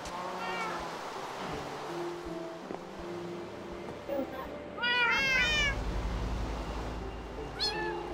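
Kitten meowing in a video game, several thin high meows scattered over a steady background wash, with a louder burst of rising cries midway and one more near the end.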